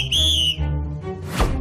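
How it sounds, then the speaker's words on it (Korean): A politician blows a whistle as a warning during a party meeting, giving one loud, shrill sustained blast up close, followed by rustling and a short muffled sound. "그래서 이 호루라기로 다시 한번 경고를 보냅니다."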